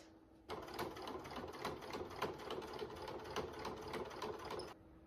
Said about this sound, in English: And then I just stitch along the edge here, and I only need 1 stitch then, I think, to encase it.